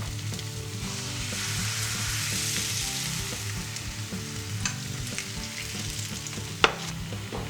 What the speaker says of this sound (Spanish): En la misma sartén que está caliente ponemos un poco de aceite y vertemos dentro la mezcla que hemos hecho con la harina de garbanzo